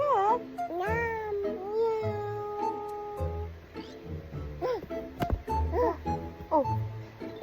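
A voice imitates a cat with a series of rising and falling meows, some drawn out and some short, separated by pauses and soft background sounds.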